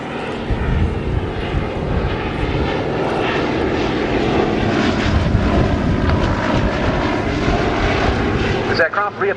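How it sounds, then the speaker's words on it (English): A Fairey Swordfish biplane in Fleet Air Arm naval squadron markings flies past at an air display, its engine drone steady and loud throughout with wind buffeting, then cutting off near the end. "This aircraft reappeared on the display circuit last year, and it's in the markings of a Swordfish from a 20 Naval Air Squadron"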